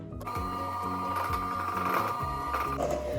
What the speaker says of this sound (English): when you start to mix in your dry ingredients, you should absolutely start on level 1 of your hand mixer